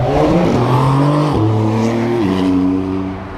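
A sports car drives past loud and close. Its engine note climbs steadily and breaks twice as the gears change, then fades slightly at the end, with no voices.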